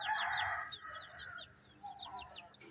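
Young chicks and chickens in a newly built backyard coop, with continuous rising peeping chirps over clucking and a rooster-like call, close and lively, no talking.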